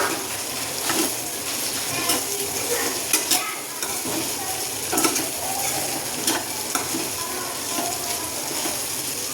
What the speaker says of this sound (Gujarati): આપણે ધીમા તાપે જ ચડવા દેવાનું છે।